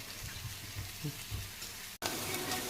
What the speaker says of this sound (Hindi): अभी तावा पे इसको फ्राई किया जा रहा है गरम गरम